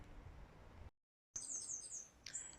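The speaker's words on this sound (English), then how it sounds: "Nice sound of birds in this tree in my yard." Several birds chirp and sing from a tree in a yard in Burundi, bright high tweets coming in short bursts after a brief gap, with steady outdoor background noise beneath.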